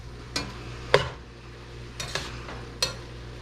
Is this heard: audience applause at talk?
no